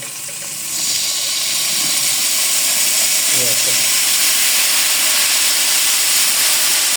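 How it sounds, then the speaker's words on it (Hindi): Hot sugar syrup poured into cooking semolina halwa sets off a sudden loud burst of sizzling steam that settles into a sustained, close, even hiss. "हम थोड़ा थोड़ा करके शीरा डाला है ताकि मुंह के ऊपर इसके छिटे ना आए हमारे"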